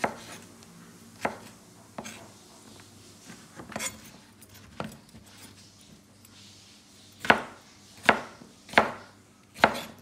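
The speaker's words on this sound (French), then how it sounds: "Et après, on va faire des parties, on va les couper en biais." Kitchen knife slicing sea bream fillets into pieces on the bias on a cutting board, with sparse soft cuts early on, then four sharp, evenly spaced chops hitting the board near the end.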